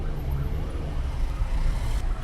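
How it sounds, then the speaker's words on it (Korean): Several 119 ambulances pass on a city street, their sirens wailing at a moderate distance over low traffic rumble and passing cars, with no speech. "지금 119 구급차가 엄청 많이 지나가는데?"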